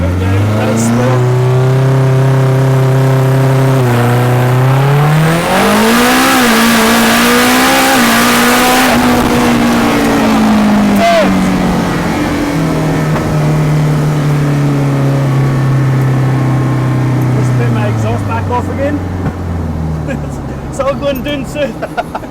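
Homemade Mazda RX-7 fitted with a Honda engine, 4WD BMW gearbox and welded diff launches with its exhaust open: a loud, rising, revving engine note climbing through gears, recorded close from inside, with voices talking over it.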